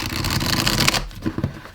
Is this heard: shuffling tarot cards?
yes